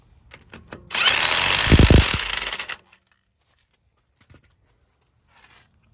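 A power socket tool works the lug nuts on a BMW F30 335i wheel, letting out one loud, close whirring burst of about two seconds between faint handling clicks and near silence.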